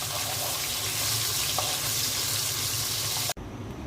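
Pabda fish sizzling and crackling steadily in a hot pan as the pieces are flipped, a dense close frying hiss throughout that cuts off sharply near the end.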